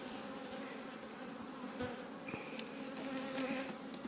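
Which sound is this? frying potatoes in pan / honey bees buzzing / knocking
honey bees buzzing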